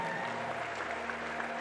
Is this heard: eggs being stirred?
no